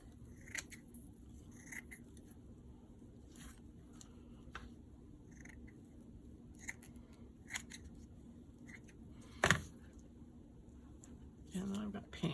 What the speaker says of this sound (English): So I'm going to cut a chunk of this off.